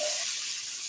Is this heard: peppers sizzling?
yes